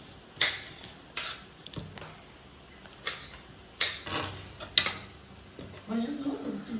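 Cooked tomatoes for chutney are being ground by hand without a mixer, with scattered clinks and knocks of utensils in a home kitchen, irregular and fairly close, while people talk.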